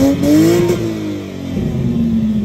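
A Lexus IS200 engine fitted with a DIY EFI plug-and-play standalone ECU and drive-by-wire throttle revs sharply, its pitch climbing fast and then dropping back toward idle. The sound is loud, close and steady, with no voices.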